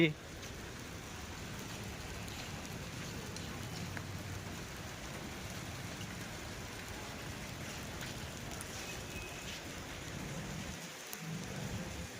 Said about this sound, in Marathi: आता मात्र जोरात पावसाला सुरुवात झालेली आहे